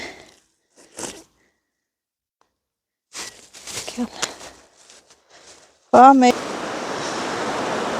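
A swollen river rushes in a loud, steady roar that starts abruptly near the end, after a mostly quiet stretch with brief sounds and voices.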